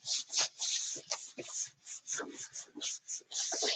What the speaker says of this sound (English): Sanding block.